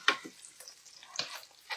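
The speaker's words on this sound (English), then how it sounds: "let me stir these onions." Onions frying in a pan are stirred, giving a few soft scrapes and quiet sizzling bursts, faint and close by.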